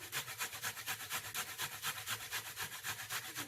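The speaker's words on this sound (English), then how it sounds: "Plantains can be a little slippery sometimes, so we want to be very careful when we are grating them." Plantains rubbed back and forth on a hand grater for plantain soup, a steady rhythmic rasping with about three strokes per second, close and fairly quiet, no voices.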